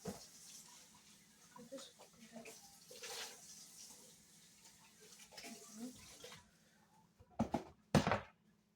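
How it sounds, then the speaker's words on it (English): Hands being washed under a running kitchen tap, a soft, uneven trickle and splash that ends in a few louder splashes and drips. "So I'm going to wash my hands again."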